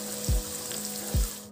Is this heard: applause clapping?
no